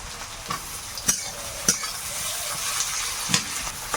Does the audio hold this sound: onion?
yes